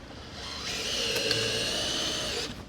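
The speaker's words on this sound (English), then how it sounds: "My drill better stay with me. Stay with me, drill. We only have a few screws left." A power drill driving screws into scrap wood for an outboard motor stand, one steady whirring run of about two seconds with a sharp start and stop, close and loud, with no talk.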